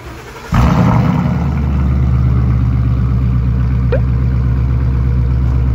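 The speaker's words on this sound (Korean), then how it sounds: "배기 튜닝이 들어가 있어서 시동 걸러주시면 아마 놀라실 겁니다." A Ford Mustang with an aftermarket exhaust fires up abruptly with a loud burst, then settles into a deep, rumbling idle through a throaty exhaust, steady and close.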